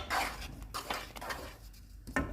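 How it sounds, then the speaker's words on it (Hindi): A spoon stirring and scraping in a pan as salt, nutmeg powder and white pepper are mixed into thick white sauce for beef lasagna, giving soft clinks and scrapes close up with no talk. "इसमें हम नमक डालेंगे, जायफल पाउडर, सफ़ेद मिर्च का पाउडर, और इन्हें मिक्स कर देंगे।"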